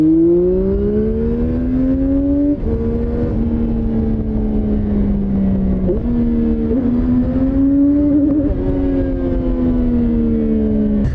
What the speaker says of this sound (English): 95 horsepower inline 3 engine is punchy and enough for a daily sport ride.